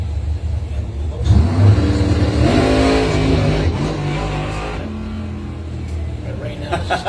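A rebuilt drag racing car's engine revs loudly and rises in pitch, holding a strong, steady roar for several seconds before easing off, with an announcer talking over it.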